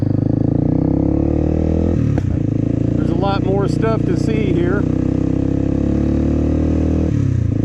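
Steady motorcycle engine drone throughout, loud and close, with a brief rattling clatter; someone talks briefly over the engine noise. Adventure motorcycle riding on clay terrain near a boat ramp in the Rio Chama Basin, Abiquiu, New Mexico.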